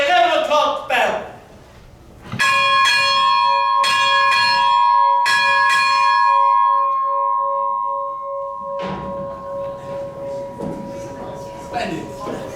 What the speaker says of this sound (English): please mind your ears for the 11 o'clock bell